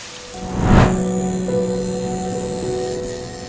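Rain falls steadily outside as a soft, even hiss, joined by a brief louder rush near the start and faint tonal hums lingering in the background.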